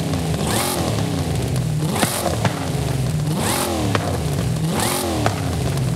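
A 7.5-litre 1970 Dodge Charger in Forza Horizon revs hard in repeated bursts, about four loud surging sweeps at a steady rhythm with a deep throbbing idle between them, close and alone.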